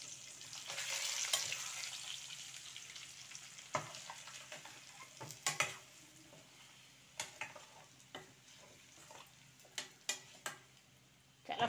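Egg fry with a ground powder of dried coconut and dried chillies is stirred in a hot pan: a soft, continuous sizzle broken by scattered scraping ticks of the spoon against the pan, close and fairly quiet.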